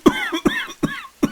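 Four coughs in a row, spaced roughly evenly, each a short harsh burst with a raspy voiced tail, close and fairly loud with no talk.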